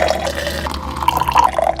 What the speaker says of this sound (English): pour yourself a hot cup of coffee